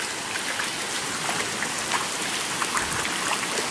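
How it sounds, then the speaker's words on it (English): Steady heavy rain pours down outdoors onto already saturated ground, a dense, continuous hiss close by with faint individual drops pattering through it. "Here, let me get out of the rain a little bit."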